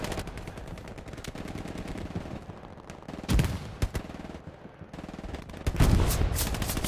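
Rapid automatic gunfire from a Tommy gun in a multiplayer first-person war shooter, firing in dense bursts with sharper, louder shots near the middle and end, under a steady game soundscape with no talk.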